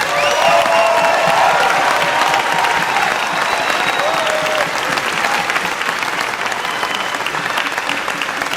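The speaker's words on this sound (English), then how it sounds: "join me in a round of applause to appreciate these guys here" A crowd applauds at the Arnold Classic bodybuilding show, sustained, dense clapping with some cheering that eases slightly toward the end.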